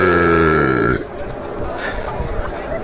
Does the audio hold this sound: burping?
yes